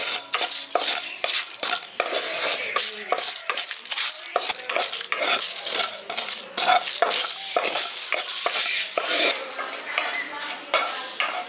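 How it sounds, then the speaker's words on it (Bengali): Whole spices including cumin, fennel and coriander dry-roast in a dry pan, stirred continuously so dense rapid scraping and rattling clicks of seeds and spoon against metal dominate, with a faint sizzle underneath. "এবার সব উপকরণগুলোকে আমি শুকনো খোলায় ভেজে নিচ্ছি।"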